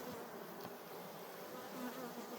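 Honey bees buzz steadily and close during a honey harvest, a continuous droning hum with individual insects whirring past, alone with no talk.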